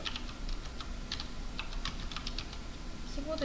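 Computer keyboard keys pressed in a steady, quiet run of soft clicks, close to the microphone against a low background hiss.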